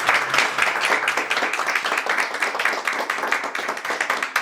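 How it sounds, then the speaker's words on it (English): Dense round of applause for the players of a game show, many hands clapping loudly and steadily close by for the whole stretch. "major round of applause for each of you"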